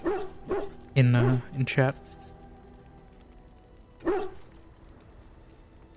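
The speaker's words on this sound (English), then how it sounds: "This dog is barking so much" A dog barks in short bursts in the background while a person talks over it and a streamer plays Dragon Age: Origins on PC. The barks are moderately loud and come in brief clusters.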